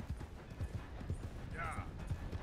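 A horse trots in Red Dead Redemption 2, its hooves clip-clopping in an even, repeating beat close by, with voices talking over the hoofbeats.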